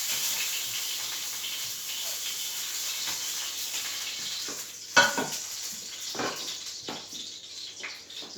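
Chicken breast searing in a non-stick frying pan with a little oil, a steady bright sizzle broken by a few knocks and scrapes.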